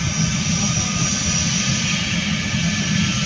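Engine of a large Royal Australian Air Force aeroplane at an airfield, a loud, steady roar with a high whine that holds even and unbroken, close by with no one talking over it.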